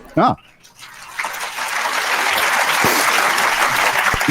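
Debate audience bursting into applause, a dense steady patter of many hands that swells after a brief voiced moment at the start and holds loud and sustained.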